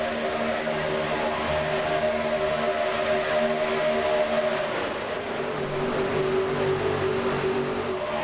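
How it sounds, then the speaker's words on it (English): Daytona 2003 NASCAR stock car engines in the iRacing simulator hold a sustained, screaming, harmonic-rich drone. Midway the pitch drops and shifts as the pack moves, loud and constant with no talk. "the scream of the engines"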